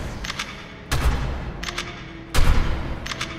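Two sharp gunfire bursts ring out in a dinosaur video game, each a loud crack with a short decaying tail, plus fainter shots in between.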